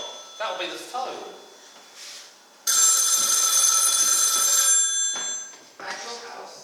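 An old-style telephone bell rings in one loud, sustained burst near a room where voices talk before and after it.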